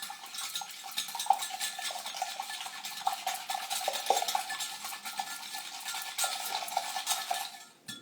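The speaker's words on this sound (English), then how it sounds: "I'm going to whisk the heck out of it until the egg white and the egg yolk are fully mixed" A wire whisk beats eggs in a tall glass Pyrex measuring cup, making a fast, continuous clatter of metal tapping glass. The sound is close and even, with quick rhythmic scrapes, and no one talks.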